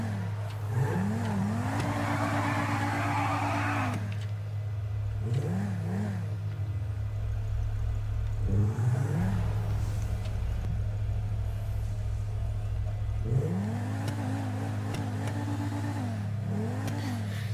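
An Audi R8 (9F) engine in GTA 5 on a driving road, revving and shifting through repeated rising gear pulls, loud and steady with a continuous low drone and no talk.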